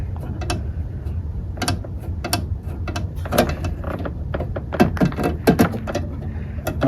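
A ratchet wrench works the brake line fittings on a 2017 Ford Fiesta during a brake master cylinder replacement, giving bursts of close, irregular metallic clicks and ratcheting with no talking.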